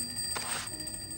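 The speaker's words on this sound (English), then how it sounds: "Another alarm clock starts ringing from somewhere in the room." Alarm clock ringing somewhere in a room in the Reverse 1999 video game, a faint steady high-pitched electronic tone with a short louder burst midway.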